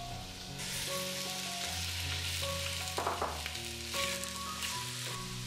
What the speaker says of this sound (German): geben wir auch schon das Fleisch hinzu und lassen es goldenbraun anbraten